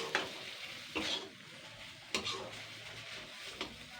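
Sweet pumpkin mashed and fried dry in a pan, a soft sizzle under a few sharp scraping strokes of a spatula, close but fairly quiet.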